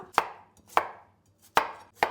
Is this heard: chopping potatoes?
yes